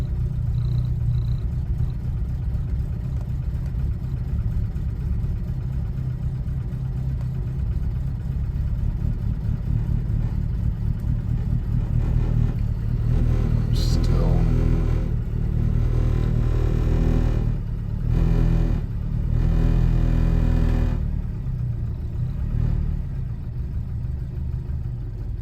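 A 1967 Alfa Romeo Giulia 1300 ti engine cold-starting on choke, running as a steady, loud, slightly uneven idle for about 25 seconds with a brief rise in revs near the middle.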